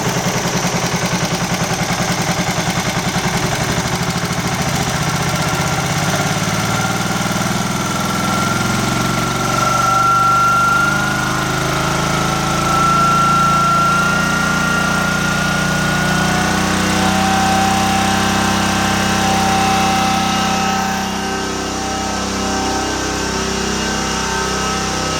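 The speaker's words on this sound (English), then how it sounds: "We're gonna go ahead and increase our RPM to full throttle." An Amtex Prowler 13hp machine engine runs at full throttle in a loud, steady, close drone with a constant mechanical hum that holds without a break throughout.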